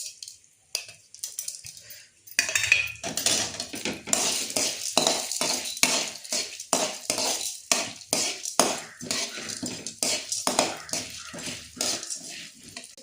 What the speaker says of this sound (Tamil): இப்போ உளுத்தம்பருப்பும் கடலைப்பருப்பும் போட்டு வறுத்துக்கலாம்.